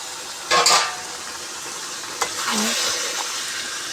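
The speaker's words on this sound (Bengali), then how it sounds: "এবারে আস্তে আস্তে মাংসটা ছেড়ে দেব।" Around two kilograms of chicken slid into a hot pan of spices for curry, giving a sudden loud sizzle followed by steady frying hiss and a clink of stirring, close up with no voices.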